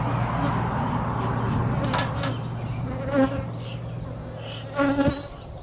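A steady, close hum of many buzzing honeybees at an open hive, with individual insects droning louder as they pass near.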